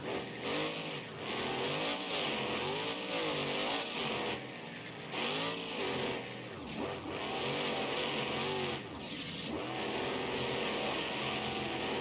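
A deep, throaty monster truck engine in the video game BeamNG.drive revs up and down in repeated swells, with tire squeal and racing noise, loud and close throughout.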